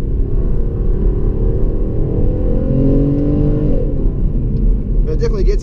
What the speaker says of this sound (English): You can hear that exhaust backfiring and cracking away.